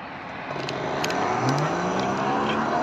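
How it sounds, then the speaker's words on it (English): A car speeds past outdoors on a road, its engine and tire noise swelling and holding as a steady rush, fairly close and loud, with no talking. "Speeder."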